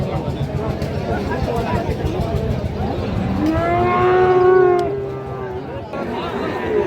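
Cattle lowing at a busy village cattle market selling Friesian and crossbred bull calves, one long drawn-out moo swelling near the middle over a constant hubbub of crowd chatter and bargaining voices.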